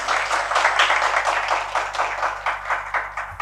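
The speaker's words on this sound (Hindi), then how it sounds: "इनके लिए एक जोरदार ताली होनी चाहिए।" Audience applause fills a Hindi poetry gathering for Hindi Diwas, a dense, steady wash of many hands clapping close by and loud, swelling slightly and then holding for several seconds.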